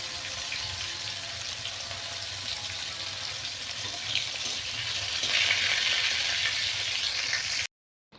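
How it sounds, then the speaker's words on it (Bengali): Rohu fish pieces rubbed with salt and turmeric frying in oil in a wok, a steady dense sizzle that holds close and loud, swelling slightly toward the end before cutting off abruptly. "মাছে নুন হলুদ মেখে নিয়ে আমি মাছটাকে ভাজতে দিয়েছি কড়াইতে"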